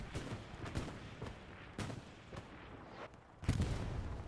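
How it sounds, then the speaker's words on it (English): Distant artillery booms in the Steel Division-style tank battle game SME, several separate heavy impacts spaced irregularly over a low rumble of battlefield noise, the last hit landing closest and loudest. "Good artillery."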